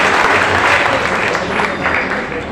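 A crowd gives loud, sustained applause for a guest at a political gathering, a dense, continuous roar of clapping hands that holds steady and eases slightly toward the end.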